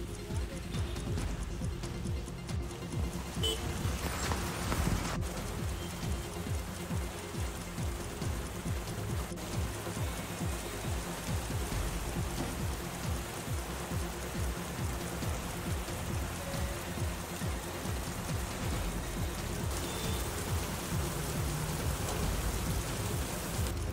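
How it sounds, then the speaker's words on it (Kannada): Heavy rain falls in Himachal Pradesh, drumming steadily on surfaces with dense patter and occasional sharper drips, continuous and fairly close for the whole stretch, with no one speaking. "ಹಿಮಾಚಲ ಪ್ರದೇಶದಲ್ಲಿ ಮನಾಲಿ ಸೇರಿದಂತೆ ಹಲವು ಭಾಗಗಳಲ್ಲಿ ಭಾರೀ ಮಳೆಯಾಗ್ತಿದ್ದು ಜನಜೀವನವೇ ಅಸ್ತವ್ಯಸ್ತವಾಗಿದೆ"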